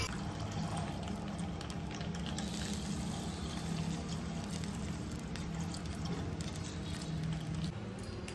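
Water pours and splashes steadily into a cooking pan while kheer is being made in a home kitchen, a continuous close, full-bodied rush of liquid with no talking.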